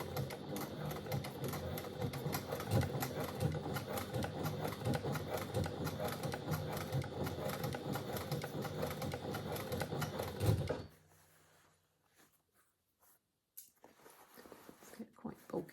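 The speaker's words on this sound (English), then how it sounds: "we're going to stitch around, edge stitch around that collar seam" Sewing machine edge stitching around the collar seam of a bulky Merchant & Mills Denham jacket, running steadily and close for about eleven seconds before stopping, followed by faint handling sounds.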